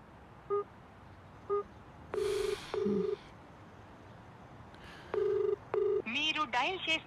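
Telephone keypad tones dialing a number in a Telugu film scene, a series of clear beeps of varying length with gaps between them, ending in a short burst of warbling, busy-sounding tone.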